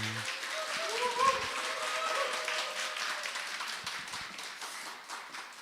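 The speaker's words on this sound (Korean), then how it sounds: "우리 강미양 목사님 큰 박수로 환영해 주시기 바랍니다" A church congregation at a Wednesday service claps to welcome a visiting pastor, a moderate, fairly steady patter of many hands that fades gradually, with brief voices and faint tones early on.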